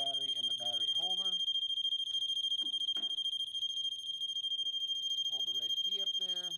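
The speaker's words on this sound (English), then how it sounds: "So we will go ahead and hook the battery up. The alarm will sound." A Poolguard pool alarm sounds after its battery is hooked up, a loud, steady high-pitched electronic tone that holds through the whole stretch while someone talks over it.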